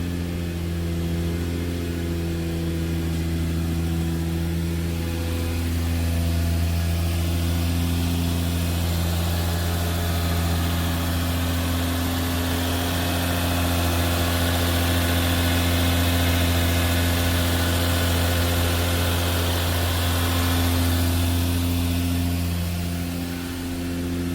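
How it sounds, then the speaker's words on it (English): A turbocharged Lexus IS300 fitted with a plug-and-play engine management kit idles steadily after starting, a loud, close, continuous low engine drone with a steady hum and no talking. "now that we have verified all of our outputs and I have input the correct injector size, now it's time to crank it"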